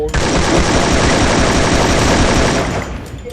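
Free Fire gunfire pours out as a loud, continuous automatic burst lasting about two and a half seconds, dense and close, then cuts off abruptly into quieter game sound.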